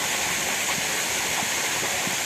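A waterfall at Halli Mane Falls in Kalasa rushes as a steady, loud, broadband roar of falling water, unbroken for the whole stretch and with no voices over it.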